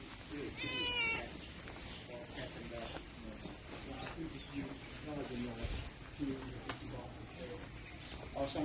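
A cat at an elephant sanctuary in Chiang Mai, Thailand, lets out a short meow early on amid faint outdoor ambience, with quiet voices and scattered background sounds continuing afterward.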